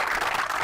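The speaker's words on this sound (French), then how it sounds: "applaudissez-le très fort" A brief burst of crowd applause, dense steady clapping with no voices standing out.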